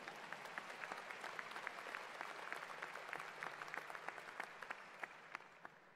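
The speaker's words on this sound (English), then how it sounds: "you can clap for that" An audience applauding at a university commencement, dense steady clapping from many hands, fairly distant and even throughout with no voices over it.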